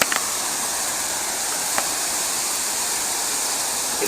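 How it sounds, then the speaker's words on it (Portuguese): Cachoeira do Licuri, a waterfall in Chapada Diamantina, gives off a constant broad rushing hiss of falling water, steady and close, with a couple of faint clicks. "Olha a queda d'água."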